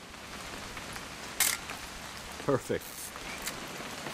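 Soft, steady rain hisses in the background of the video game What Remains of Edith Finch, fairly quiet, with a brief voice and a few short clicks and bumps breaking through.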